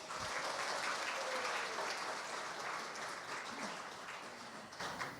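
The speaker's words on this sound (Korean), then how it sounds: "이렇게 따뜻한 박수로 맞이해 주셔서 감사합니다" Warm, fairly soft audience applause at the opening of the 34th Daesan Farmers' Award ceremony, a continuous wash of clapping heard from a distance throughout.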